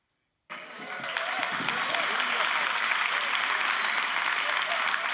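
Audience clapping at a conference breaks out suddenly after a moment of silence, then holds as a steady, even wash of many hands, moderately distant and without pause.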